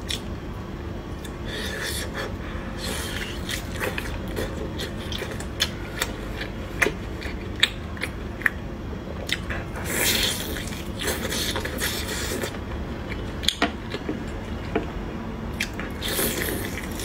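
Someone eating a duck leg close to the mic, with repeated moist bites, chewing and faint crunches scattered through a long, steady stretch, and no talking.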